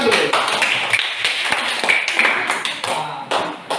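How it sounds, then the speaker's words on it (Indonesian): Classroom applause from students after a group experiment on light reflection, a steady patter of many hands clapping at moderate loudness for several seconds with sharp individual claps standing out. "Oke, berikan tepuk tangan dulu."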